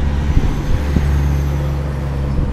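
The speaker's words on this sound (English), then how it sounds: "I'm sure you can hear the trucks." Heavy road traffic on Interstate 40 near Twin Arrows, Arizona rumbles past continuously, a low steady drone of trucks with a few faint thumps, moderately close.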